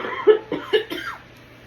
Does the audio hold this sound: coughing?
yes